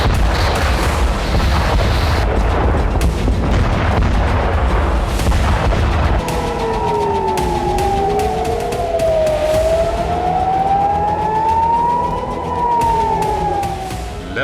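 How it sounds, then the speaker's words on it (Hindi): A loud explosion rolls through the night during the Israel-Hezbollah war, followed by a wailing siren whose pitch sweeps slowly up and down over a steady, dense rumble. "देखिए कैसे रात के अंधेरे में तेज विस्फोट हुआ"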